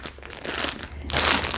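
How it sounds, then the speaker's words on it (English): A plastic vacuum storage bag crinkles as it is rolled and compressed, a close, continuous crackling that swells in brief bursts and grows loudest near the end. "And now it becomes compressed"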